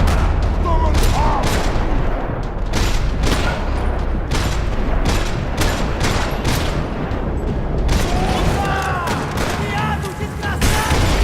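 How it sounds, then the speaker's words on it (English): Dense gunfire rattles through a parking lot in the video game Max Payne 3, with many rapid shots and bursts sounding continuously and loudly throughout, mixed with booms and clatter. "Another parking lot rattling with gunfire."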